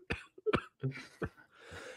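A man who is still a little sick coughs several times in quick, harsh bursts, close to the microphone, followed by a raspy exhale and a throat-clearing sound.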